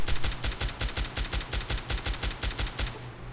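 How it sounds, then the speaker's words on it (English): A full magazine emptied in Fallout 3 with a cheap weapon: a fast, steady string of about twenty evenly spaced shots, loud and close, ending abruptly. "Score a couple shots on this one"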